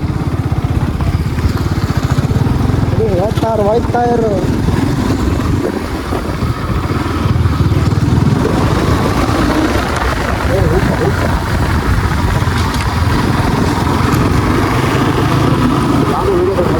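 Motorcycles ride off-road on a rough dirt track near Devarayanadurga hill in Tumakuru, engines droning steadily and close throughout, with people talking over the constant motor noise.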